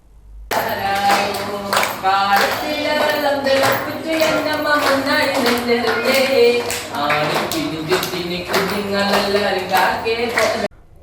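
Little children at a government lower primary school clap to welcome NSS volunteers, with steady rhythmic clapping running throughout under loud singing voices.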